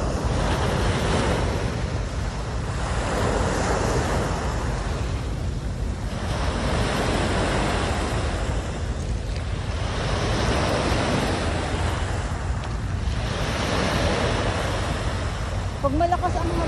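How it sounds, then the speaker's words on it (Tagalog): Waves break one after another on the Manila Bay shore at Dolomite Beach, a loud, continuous surf with rhythmic surges and wind buffeting the mic. A voice talks now and then. "grabe yung alon"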